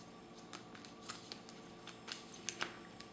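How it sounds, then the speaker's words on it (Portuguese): A deck of cards being shuffled at a tabletop card game gives faint, soft riffles and flicks, a run of small ticks over a quiet background. "ele pega o deck restante, mistura, ele vai embaralhar aqui"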